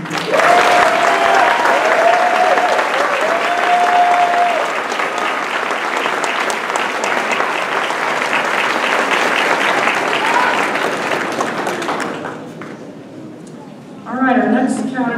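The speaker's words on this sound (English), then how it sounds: "if they could stand, and then we'll applaud" A graduation audience at Campion Academy claps steadily for scholarship recipients, loud, dense and sustained, easing off near the end before a short burst of voices.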